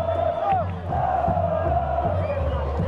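A football crowd cheers and chants in a stadium during a Mato Grosso state championship match, a sustained distant roar of many voices with a whistle-like tone gliding above.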